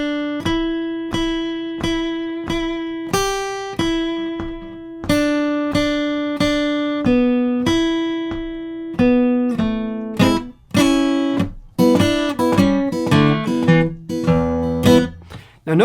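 Guitar plays a blues phrase, a repeated rhythmic plucked riff that breaks into a busier, louder solo run near the end, with no talk over it.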